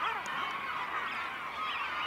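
Dense colony of seabirds on the Yorkshire coast cliffs, a continuous mass of harsh squawks and honking calls overlapping without pause, loud and close throughout.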